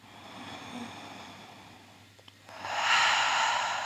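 A long, slow inhale during a yoga session, soft at first and then swelling into a louder, airy breath close to the microphone near the end.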